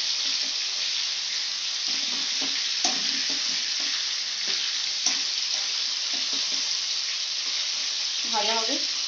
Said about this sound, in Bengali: চিংড়ি মাছ ভাজতে বেশি টাইম লাগে না